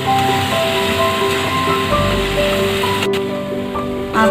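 Onion paste sizzles and spits steadily in a hot pan as it is stirred, a dense continuous frying hiss that runs throughout, loud and close, with no voices.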